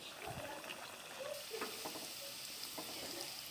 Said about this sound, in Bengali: এই ছোট্ট কড়াইতে আমি ভেজে নিব। দেখো কি সুন্দর করে ভেজে নেই